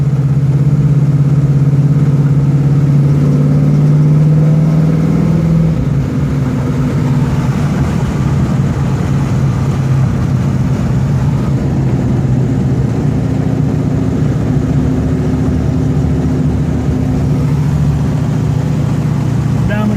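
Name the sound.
muscle car engine revving while driving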